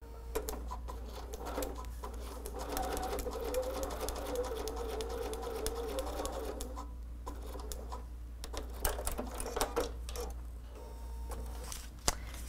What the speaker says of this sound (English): Now we're going to go do the sewing